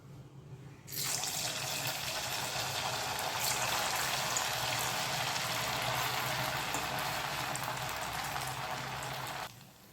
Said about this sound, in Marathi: आणि वडे हे मी बनवून घेतलेले आहेत, आपण हे तळून घेणार आहोत.